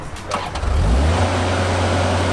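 A road roller's engine cranks and catches, then swells into a loud, steady low rumble that holds close by.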